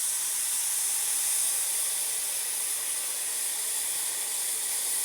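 Water poured onto a burnt natural hair dye mixture, giving a steady, loud, broadband sizzling hiss that holds evenly for several seconds without pause.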